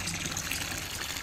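Tap water gushing steadily from an outdoor plot faucet used for watering plants, a continuous dense rushing and splashing, close and loud.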